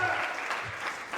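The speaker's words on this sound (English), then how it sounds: "Everyone give a round of applause to Benji Stern." Comedy show audience breaks into applause, a dense, continuous patter of many hands clapping together throughout, with faint crowd noise underneath.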